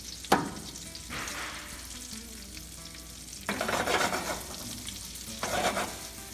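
Green beans sizzle and crackle in a hot pan, with bursts of stirring and scraping that swell louder in a couple of stretches; steady frying hiss throughout, no voices.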